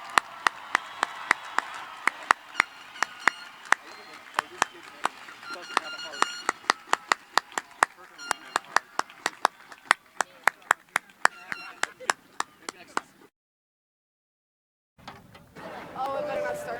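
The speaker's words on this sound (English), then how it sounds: "Let's give the class of 25 a round of applause." At a 2025 graduation ceremony, the audience claps in sharp, fairly sparse strikes that repeat for about thirteen seconds, then the sound cuts out briefly before a muffled noise returns.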